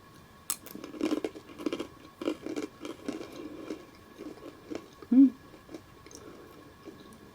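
Salty ring-shaped snacks chewed during a tasting, with crisp, close crunches and bites in an irregular rhythm, quiet between chews.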